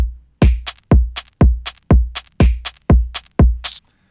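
A solo drum beat from a beat-battle production plays alone: punchy kicks and crisp snare or clap hits land in a steady, looping pattern of roughly two hits per half second, loud and close, with no voices.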